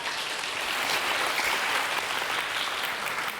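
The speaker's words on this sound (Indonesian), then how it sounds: "Tepuk tangan tuh." Talk show audience breaks into applause, a brief, even burst of many hands clapping at moderate distance, steady throughout with no voices on top.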